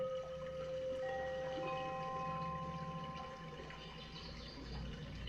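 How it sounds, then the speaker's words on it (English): A white noise sleep aid plays a soft, steady wash of running water, with faint sustained tones layered over it, at a low, even level and with no talking. "Let's mix some water in with that."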